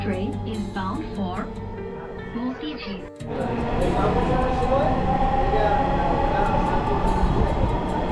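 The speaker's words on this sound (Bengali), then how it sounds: "ট্রেন চলতে শুরু করলো" A Dhaka Metro Rail train starts to run, its steady rumble swelling to a loud continuous roar from inside the carriage, with faint rhythmic ticks. Before the rumble takes over, a person talks.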